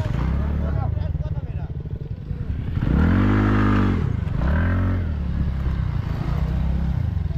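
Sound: TVS Ntorq 125 scooter engine revving during wheelie

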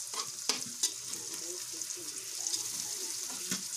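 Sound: bitter gourd (ampalaya) with egg frying in pan

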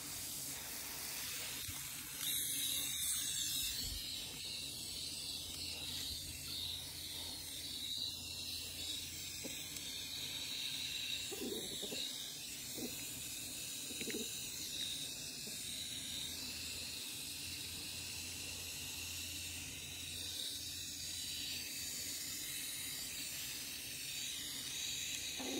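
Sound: watering plants with a hose shower nozzle

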